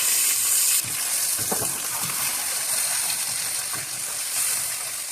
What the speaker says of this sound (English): So now we're going to add tomato and chili paste